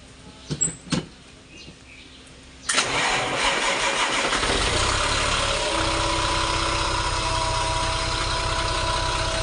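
A FAW 350 hp truck diesel engine with an overheating problem cranks after a few clicks, catches, and settles into a loud, steady idle with a low rumble.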